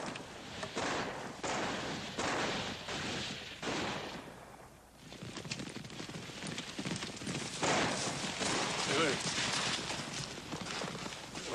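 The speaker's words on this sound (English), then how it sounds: "I sworn I heard gunshots." A chaotic mix of hoofbeats and repeated gunshots, sharp cracks scattered irregularly over a busy, noisy background, briefly easing midway before resuming.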